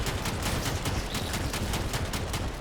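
Rapid, continuous firing of the Kohmak secondary shotgun in the game Warframe, a dense, loud stream of evenly spaced blasts that speeds up slightly, with no talking.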